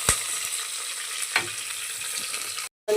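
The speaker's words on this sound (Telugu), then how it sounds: "అన్నీ వేసుకొని ఫ్రై చేసుకోవాలి." Cumin seeds, onion pieces and green chillies frying in a pan, a steady close sizzle with a couple of sharp clanks of a spoon, cut off by a brief dropout near the end before resuming.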